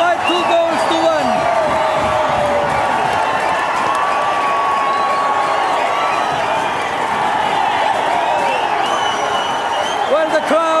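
A football stadium crowd roars after a goal in an OFC Champions League match, a loud continuous cheer with whistles, while a commentator talks over it.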